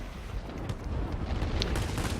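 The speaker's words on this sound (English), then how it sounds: "That cannon finally made contact and just chunked him away" In a World War II flight combat video game, a BF 109 G's 30 mm cannon fire hits an aircraft, producing dense booming explosions and crackling impacts over a constant roaring engine, with no talk.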